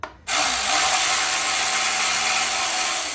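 Ratchet wrench with a socket tightening 8mm bolts back onto a portable generator being converted to natural gas; a steady, loud continuous ratcheting buzz runs without pause after a brief quiet start.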